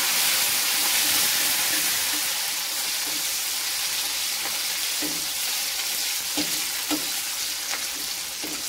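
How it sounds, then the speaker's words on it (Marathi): Green chillies frying with garlic in a hot oil tempering for a spicy methi bhaji, a steady close sizzle with occasional soft stirring clicks, no talking. "तर आता आपण हिरवी मिरची टाकून घ्यायची। हिरव्या मिरचीला छान परतून घ्यायचं।"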